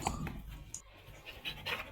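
Dogs pant in quick, rhythmic breaths close by in a home compound, with a few faint higher whimpers mixed in and no talk over them.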